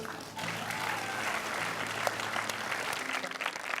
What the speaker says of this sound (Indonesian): Tepuk tangan kalau saya pintar.